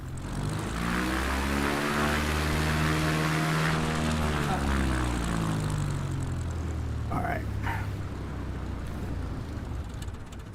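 A propeller plane engine in a flight video game drones loudly as the aircraft taxis to park, its pitch sweeping and beating before it slows and falls off, with faint talk underneath.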